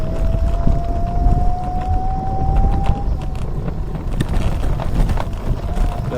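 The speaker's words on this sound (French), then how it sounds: "Je suis à 25 km/h, il y a du vent." Loud, constant wind rumble buffeting the microphone while riding an electric scooter at 25 km/h, with a thin rising motor whine underneath.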